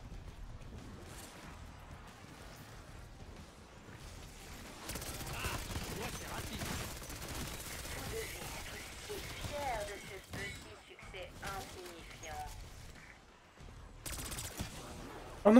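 Repeated gunfire from hip-firing in Black Ops 6 Zombies on the Terminus map comes in quiet, scattered bursts and volleys with cluttered game noise, and a voice talks over parts of it.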